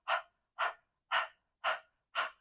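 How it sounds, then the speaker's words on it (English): Rapid open-mouthed panting breaths, like a dog's, come as five evenly spaced, breathy bursts about half a second apart, close and moderately loud, with silence between them and no talking. "So start your dog panting."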